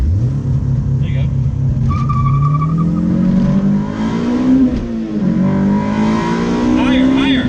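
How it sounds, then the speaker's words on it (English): A Honda Civic EG with a K20 engine and Pexi World Sport exhaust revs up steadily, its pitch climbing and dipping over a loud continuous roar, with brief voices in the mix. "You gotta rev it higher."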